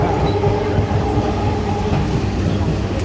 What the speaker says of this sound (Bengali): ফাইনালি ট্রেন চলে এসেছে।